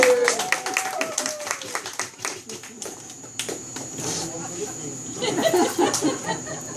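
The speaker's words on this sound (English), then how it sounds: "Give him a big round of applause." Scattered, thinning claps from a small audience ring out near a live money-game demonstration, mixed with voices and some background hiss, then a brief second swell of clapping.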